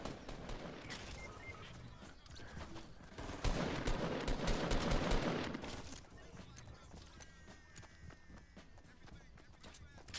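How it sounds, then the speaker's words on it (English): Video game gunfire rattles in dense bursts, swelling loudest midway and then thinning to scattered shots, with footsteps and talk mixed in. "people are shooting at me"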